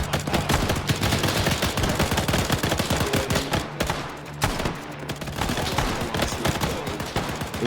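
Heavy volleys of gunfire in the Arma video game, a near-continuous barrage of overlapping rifle and machine-gun shots that pauses briefly in the middle before resuming, loud and close with no speech.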